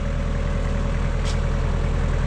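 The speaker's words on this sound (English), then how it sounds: "because that tractor is loud" A tractor pulling a subsoiler runs loudly and close, its heavy diesel engine a steady, even throbbing drone with no talk over it.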